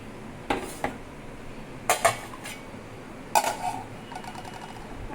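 A rice-cooking pot is set down in a home kitchen, giving a few sharp metallic clanks and clinks spaced over several seconds against quiet room noise.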